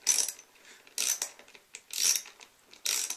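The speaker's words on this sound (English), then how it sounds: "It's a ratchet." Short bursts of a socket ratchet clicking, four quick ratcheting strokes roughly a second apart, close and crisp with quiet gaps between.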